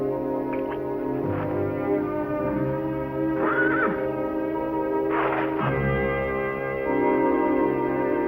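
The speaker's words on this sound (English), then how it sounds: "my good horse" A horse neighs and whinnies in several short loud bursts over a sustained orchestral film-score background, with a deeper snort-like sound near the end.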